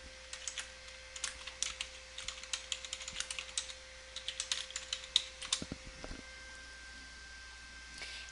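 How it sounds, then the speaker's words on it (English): Rapid, steady typing on a computer keyboard, close and clear, with dense key clicks running for most of the stretch before trailing off into a few isolated taps near the end. "And then we'll go ahead and type in the title that they are requesting."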